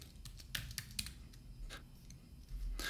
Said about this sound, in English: So we just type the current password, which is Raspberry, and the new password.